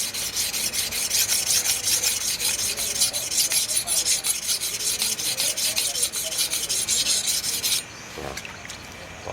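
A rubber tapping knife is sharpened with steady, rapid rasping strokes, a loud continuous scraping rhythm that runs for about eight seconds before stopping abruptly, followed by a quieter pause.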